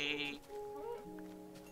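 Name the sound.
sheep bleating in video game Minecraft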